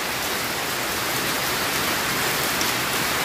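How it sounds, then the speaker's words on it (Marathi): Heavy rain during a thunderstorm, a dense, steady hiss of downpour that stays constant and fills the whole span, with no voices. "आता पाऊसांमुळे सगळीकडे असं गळायला लागलं आहे"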